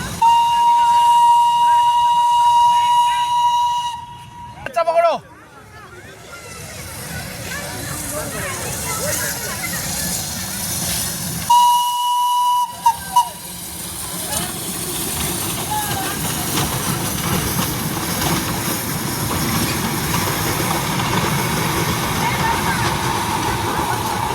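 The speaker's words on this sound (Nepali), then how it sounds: "दार्जिलिङ टोय ट्रेन आइपुगेँ" A steam toy train whistle on the Darjeeling line sounds twice, steady and tonal, between rumbling and hissing of the steam locomotive as it arrives, with people talking around it.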